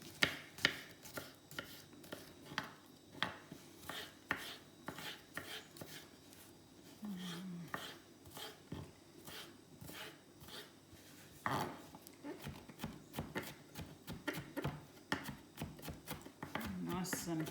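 A knife chops parsley into fairly small pieces on a board in a fast, steady run of close, crisp taps, with a voice talking over the cutting at times.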